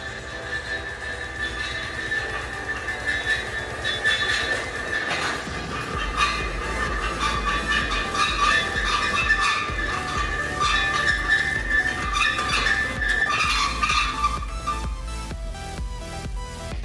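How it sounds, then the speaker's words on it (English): An engine stand rolls across a workshop floor, making a continuous rumbling, rattling roll with a thin metallic squeal running over it. The sound is steady and fairly loud for the whole stretch, with no talking. "That noise you heard was the engine stand coming from all the way to the other side of the shop"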